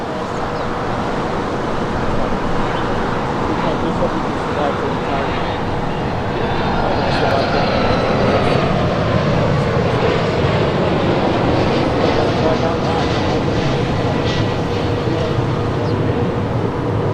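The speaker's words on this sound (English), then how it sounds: "the Delta 767-300 coming in from JFK, now in short final there on the north side" A Delta Boeing 767-300 from JFK on short final into LAX's north side roars continuously, the jet noise swelling and shifting as it passes, with voices murmuring among the spectators.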